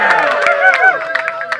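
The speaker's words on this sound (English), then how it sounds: "And you guys can cheer them a little bit" Audience at a chili eating competition in Eindhoven, Netherlands, cheering, whooping and clapping for the contestants, a lively mix of raised voices and scattered applause close by.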